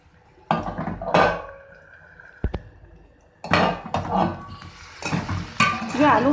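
A lid goes onto a pot of okra and potatoes cooking on a low gas flame, with several sharp metallic clanks and rattles separated by quiet pauses.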